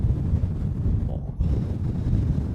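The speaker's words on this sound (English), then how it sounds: "And the wind is really strong right now." Strong gusty wind at Zurich Airport buffets the microphone with a dense, rumbling roar that dips briefly before surging back, with no voices.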